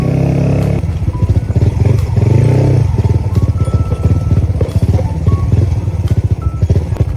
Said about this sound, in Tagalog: Yung Sniper ginawang pang trail bike guys.